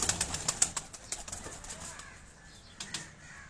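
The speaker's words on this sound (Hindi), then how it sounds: "ये कुछ चंद कबूतर हैं" A few pigeons belonging to a pigeon keeper, flying from a rooftop in Karachi, with quick bursts of wing flapping that are loudest in the first second and thin out afterward, close by over soft outdoor background noise.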